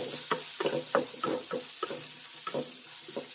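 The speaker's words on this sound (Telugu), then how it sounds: "ఇప్పుడు వీటిని బాగానైతే వేపేసేయండి" Chopped onions and a pinch of dal fry in a pan for jowar rava upma, heard as soft sizzling broken by a regular run of stirring scrapes and light knocks of a spoon, fairly quiet and close.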